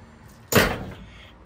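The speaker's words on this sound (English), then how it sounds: "And let's make sure the door still shuts." A car door with a freshly repaired dent swings shut once with a single solid thud, up close and loud, then a short fading ring trails off into quiet.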